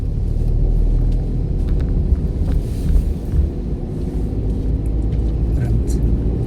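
A car engine hums with a steady low rumble while driving during a driving lesson, rising slightly in places under wind and road noise, with no clear sharp revving.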